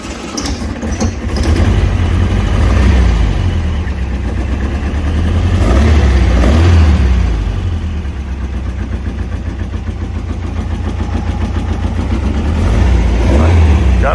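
A 1965 VW Beetle air-cooled engine fitted with billet velocity stacks runs loud and close, a steady idle rumble that swells gently with light throttle blips.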